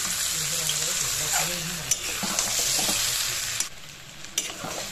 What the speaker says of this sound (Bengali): এখনও আমি 5 মিনিট কষিয়ে নেব